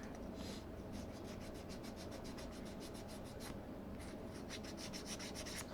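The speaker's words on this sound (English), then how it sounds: "I'm just lightly scuffing it to get rid of the hard edge there from the mold" Light, steady rubbing of an edge on a plastic scale model part to remove mold-line hardness, a soft continuous scuffing rasp close up with faint rhythmic strokes and no talk.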